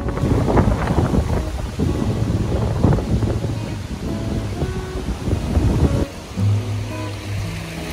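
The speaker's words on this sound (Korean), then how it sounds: "성난 파도와 바람이 매섭게 몰아치네요." Strong wind buffets the microphone while waves crash and surge on the rocky Jeju coast, loud, rough and continuous, easing slightly toward the end with a low hum.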